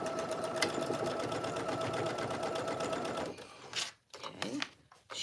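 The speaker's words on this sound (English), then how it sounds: "I'm going to take it to the machine and I'm going to top stitch that down." A sewing machine runs in a steady, fast mechanical whir while top stitching a jacket, then stops and gives way to a few shorter stop-start bursts and faint handling sounds.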